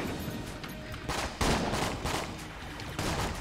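Rapid gunfire bursts in Enter the Gungeon, clustered volleys of shots arriving in quick loud waves over a continuous game background, with no speech.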